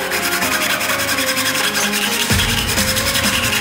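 A discarded plastic Dettol antiseptic bottle has its side cut away, giving a steady close rasping, scraping sound that runs without a break and turns heavier and lower for the final second.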